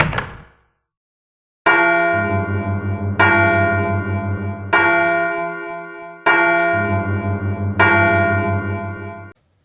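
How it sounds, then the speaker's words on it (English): Five slow, resonant bell-like chimes from a clock in the Silent Hill 1 video game, each strike ringing and decaying before the next, loud and alone after a brief opening sound. "The clock here accepts the time tablet. It chimes exactly 5 times."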